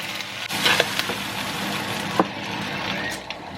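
Noodles stir-fried and tossed with chopsticks and a spatula in a pan over lowered heat, giving a steady close sizzle with soft scraping and clacks of stirring.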